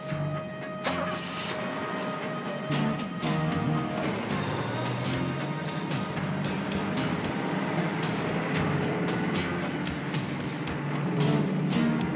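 A bus drives along with a steady mid-range engine drone and road rumble, while scattered knocks and clatters break through and the noise swells slightly near the end.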